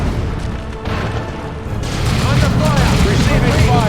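Gunfire and explosions in Warhammer 40K Dawn of War II: Chaos Rising form a loud, dense barrage of booms and rattling shots. They build and thicken halfway through, with a voice speaking over the battle.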